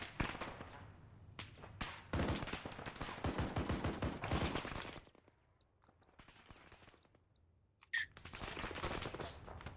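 Rifle fire in the military simulation game Arma 3 during a squad mission set in Fallujah: dense bursts of loud cracking shots, a quieter pause, then a sharp single crack followed by more sustained fire.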